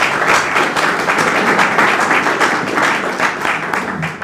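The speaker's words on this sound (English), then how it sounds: "You shouldn't applaud till you hear what I say" Audience applause fills a lecture hall at the Faculty of Business Studies as a speaker takes the stage, a dense, steady wash of many hands clapping that stays loud and even throughout.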